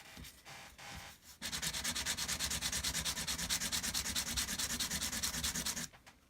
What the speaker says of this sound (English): I'm just going to keep sanding until I get a nice flat surface there.